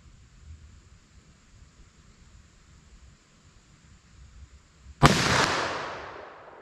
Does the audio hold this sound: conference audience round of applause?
no